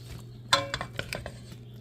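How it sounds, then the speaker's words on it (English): Rehydrating mushrooms and onions stirred in a pan, a short run of light clicking scrapes and taps of a utensil against the pan over a low steady hum. "Can't forget to stir the mushrooms every once in a while"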